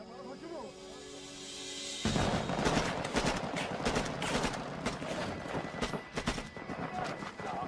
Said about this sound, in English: At the sound of gunfire, the rest of the team scattered.